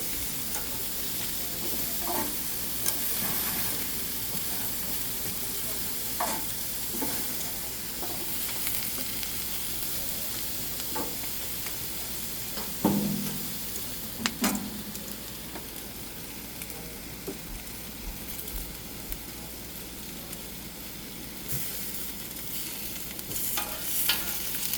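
Pork cooks on a barbecue grill at a family camping cookout, giving off a steady, moderately loud sizzle and hiss, with occasional scrapes and clicks as the food is turned.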